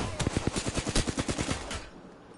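Automatic weapon fire in the video game Apex Legends, a rapid burst of about twenty loud, close shots at an even pace that cuts off and leaves a short fading tail.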